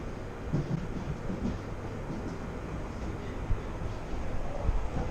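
Passing train near Wembley Park, a steady rumbling rail roar at moderate distance with some wind buffeting, no voices.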